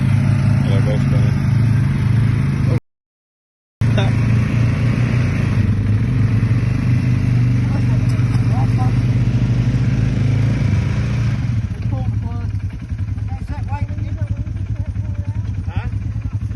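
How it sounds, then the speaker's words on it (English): Two four-wheelers drone loudly and steadily with their wheels spinning as they pull a boat during hurricane recovery, with a clattering engine rumble throughout and people talking over it. "Got 2 4-wheelers hooked up now."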